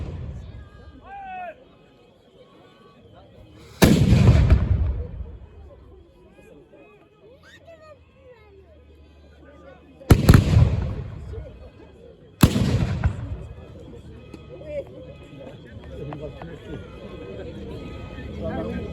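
Muskets fire in a reenactment of a 1793 battle at Arlon, Belgium, three loud, sharp bangs ringing out at intervals with echoing tails, while someone talks throughout and faint crowd noise sits underneath.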